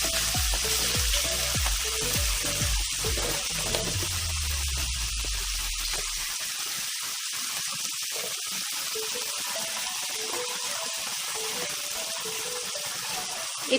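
Ingredients for egg-soya veg hakka chowmein lightly frying in a pan, a continuous hissing sizzle throughout, with a low tonal hum fading out over the first few seconds, close and without talk.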